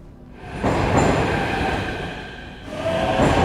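A graffiti-covered train in the Beholder 3 video game rumbles past with a steady, loud rolling roar and faint squealing wheels, swelling again toward the end, with no voices over it.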